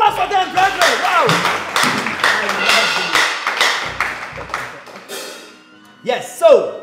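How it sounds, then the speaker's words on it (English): Church congregation clapping for a wedding couple, scattered close taps and claps mixed with talking and exclamations, fading briefly before a final burst of voice. "Another round of applause for them, brethren."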